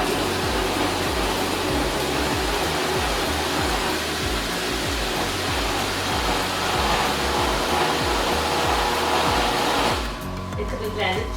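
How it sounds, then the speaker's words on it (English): A blender whirs steadily, processing cooled peppers into pepper sauce, its loud continuous motor roar holding for about ten seconds before briefly easing at the end. "The peppers have been cooled, and now we are going to blend the peppers."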